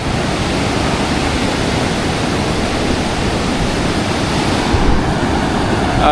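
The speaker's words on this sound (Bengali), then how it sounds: "এই পাশে হচ্ছে কলাতলি বিচ" Ocean surf at Kolatoli Beach rolls in a steady, unbroken roar of waves breaking on the shore, loud and close, with no voices.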